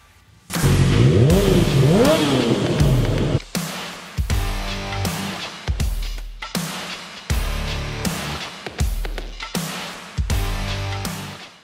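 A 2024 Yamaha MT-09 motorcycle engine fires up and idles briefly, then is revved hard in about eight quick, loud bursts, each falling back between throttle blips.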